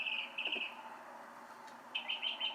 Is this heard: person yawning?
no